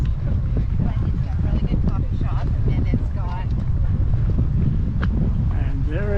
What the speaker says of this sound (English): It's windy and blustery.